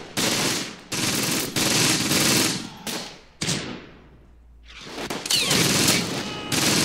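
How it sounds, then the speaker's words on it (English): Heavy artillery and mortar fire in a Close Combat war game, set in a 12th SS motorized assault near Caen, rolls in dense, loud bursts of explosions and rapid gunfire, with a brief lull before the barrage resumes. "Major artillery fire, guys. Hitting this position here."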